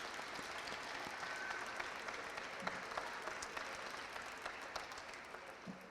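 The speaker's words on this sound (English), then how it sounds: "I really would love if you could give the team in BCO a round of applause" Audience applauding a team at a space education talk, quiet even clapping from a room full of people, continuous for several seconds with no voices on top.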